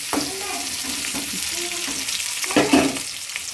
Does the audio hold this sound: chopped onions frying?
yes